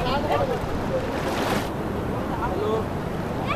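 Sea waves at Gavkhadi beach on the Konkan coast on a rainy day: a steady, broad wash of surf mixed with wind rumble on the microphone, fairly loud and unbroken throughout, with a faint human voice in the background.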